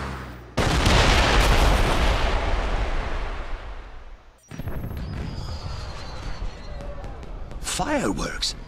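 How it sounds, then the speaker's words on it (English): Fireworks in the James Bond Blood Stone video game: a loud, sustained roaring burst of crackle and booms, followed by a softer stretch of continued bangs and rumble with voices talking. "Did you know there were going to be fireworks?"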